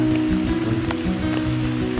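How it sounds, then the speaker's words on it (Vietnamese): Steady rain falls during a wild-bee hunting trip in the Northwest Vietnam forest, a dense continuous patter with a low hum underneath and no voices. "Thế bây giờ trời vẫn là đang mưa."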